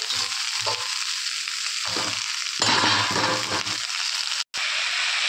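A fish head fries in hot oil in a pan with a loud steady sizzle, while a spatula stirs and turns it in bursts of scraping, close up and with no talking.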